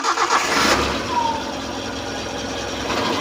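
A 2002 Suzuki Realvan GRV van engine cranks and catches, with a loud burst at start, then settles into a steady, even idle that drones on close by.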